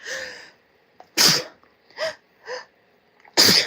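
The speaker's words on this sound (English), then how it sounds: "I'm going to get ready to sneeze." A close, loud sneeze rings out, followed by two short gasping breaths and then a second sharp sneeze, with quiet pauses between.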